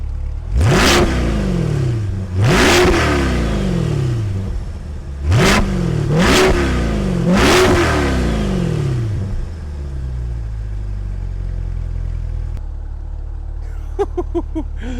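A 2023 Chevrolet Corvette Stingray's V8 revs hard through its exhaust five times, each rev climbing sharply and falling away, then settling into a loud, steady idle.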